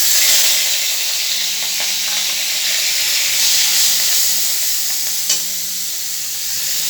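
Whole onions are dropped into hot oil in a pan after fried pointed gourd has been removed, and they sizzle with a loud, steady hiss throughout. A brief scrape of stirring is heard near the end.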